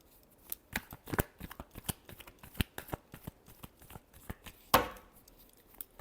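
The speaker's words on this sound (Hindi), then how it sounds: "Last shuffle." Tarot cards being shuffled by hand during a reading, a rapid run of crisp riffling flicks and taps with one louder slap near the end, close and alone with no talking.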